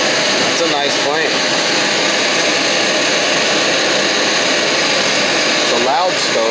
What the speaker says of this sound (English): It's a loud stove.